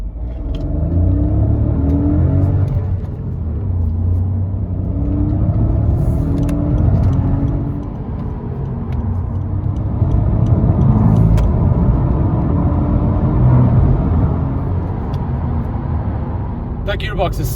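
A 2020 Honda Civic turbo sedan accelerating onto a motorway from standstill up to 120 km/h, its engine a steady, loud rumbling drone with rising revs and road noise throughout, heard from inside the cabin.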